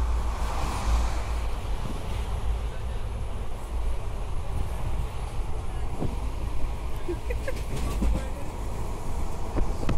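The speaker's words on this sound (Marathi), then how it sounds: "अलीकडेच आमची ट्रेन थांबली गोकर्णला" Passenger train arriving at Gokarna station, a steady low rumble and rolling rail noise with faint clicks, heard from on board with voices faintly in the background.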